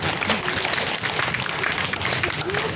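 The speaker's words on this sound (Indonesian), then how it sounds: "Tepuk tangan dong." A crowd at an outdoor market event opened by a mayor claps amid busy background chatter, with loud, continuous noise mixing applause and voices.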